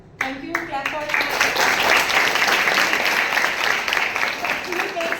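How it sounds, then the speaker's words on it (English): An audience of girls at a communication skills workshop applauds a singer, sustained clapping that swells in after a short spoken moment and holds steady under scattered voices. "Clap for her."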